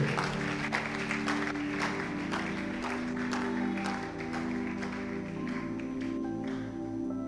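A church congregation applauds new volunteers, with dense, continuous clapping and crowd noise under a sustained hum of instruments or amplification, fading somewhat toward the end.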